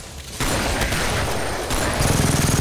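Shotgun blasts from co-op play in the game Killing Floor erupt after a quiet start, a dense burst of loud gunfire and clatter continuing to the end, with rapid pulsing shots near the close.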